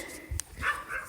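A single short dog bark sounds at a moderate distance over low background noise, brief and fairly soft.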